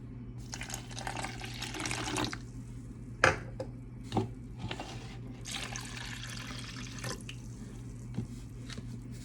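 Warm water splashes and trickles in short bursts onto sugar and yeast in a bowl, with a few clinks and drips between the pours in a quiet kitchen.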